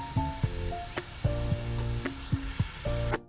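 Carrots fry in oil at close range, a steady hiss of sizzling broken by a few sharp clicks and knocks of a utensil against the pan.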